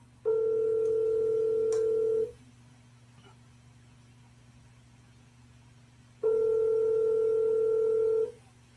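A steady telephone dial tone sounds while a phone call is being placed, in two clear bursts of about two seconds each separated by a quiet gap, loud and alone over a low background hum.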